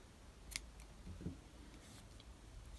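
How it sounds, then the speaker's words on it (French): Small scissors snip crochet cotton yarn while making a mini mushroom, with one or two quick, faint clicks against a quiet room background. "couper mon fil"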